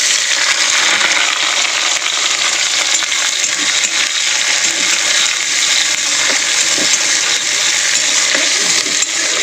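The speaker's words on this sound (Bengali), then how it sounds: "পেঁয়াজটাকে একটু ভাজা করে নেব" Chopped onion with black cumin frying in hot oil in a wok, a loud, dense, continuous sizzle close to the pan with faint crackles and no talking.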